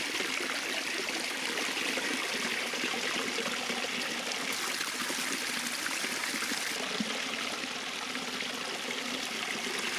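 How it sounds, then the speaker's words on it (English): Pump-driven water runs through a newly built garden stream feature with small dams at about 10,000 liters per hour, a steady close rushing and trickling wash that stays unbroken and alone. "The dams are also running very well and the water circulation seems to function properly."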